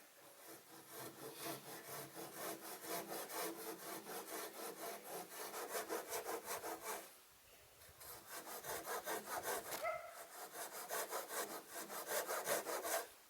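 A hand saw cuts through wood from trees for an off-grid gate, a close, rhythmic back-and-forth rasp of strokes with a brief pause midway before sawing resumes.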